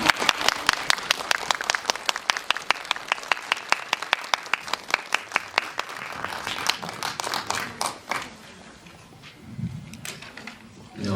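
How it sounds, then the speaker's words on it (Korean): Audience applause welcoming guests to a post-screening talk event, starting as dense, regular clapping that thins out and fades after several seconds into room noise. "박수로 맞이해주세요."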